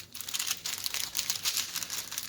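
Plastic packaging from a cross stitch kit crinkles in steady, close bursts of crackling for a couple of seconds, with no voices.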